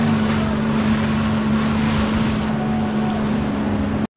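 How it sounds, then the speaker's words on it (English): A Sea-Doo jet ski idling along in troll mode at about 4 to 5 mph on open water, its engine a steady, loud, droning hum with wind and splashing around it, cutting off abruptly at the end. "Now this jet ski does have troll modes, and we're going to use it to try to maintain our GPS speed around 4 or 5 miles per hour."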